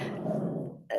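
A pet dog indoors growls low and steady for most of a second, close and moderately loud, ending in a brief higher yelp or whimper.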